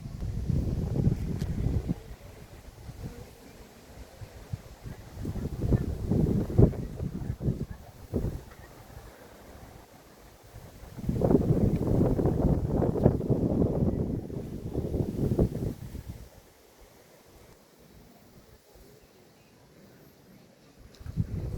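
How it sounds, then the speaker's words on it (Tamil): Wind blows across Kolli Hills, buffeting the microphone in rumbling gusts that swell and fade repeatedly, then drop to near calm before a final gust. "மெயினாக இந்த காற்று தாங்க."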